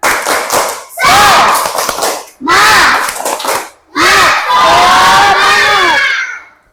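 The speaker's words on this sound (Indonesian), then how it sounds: "Sekali lagi, tepuk semangat." A classroom of children shout a rhythmic clapping spirit chant in loud bursts, voices in unison with claps, repeated three or four times with short pauses between.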